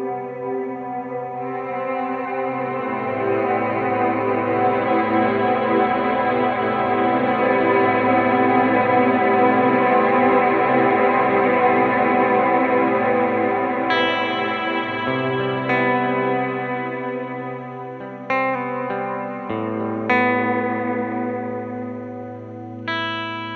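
A guitar played through a Strymon Cloudburst reverb pedal rings out in long sustained chords with a wide, shimmering reverb wash, notes blooming and decaying into each other with no talking.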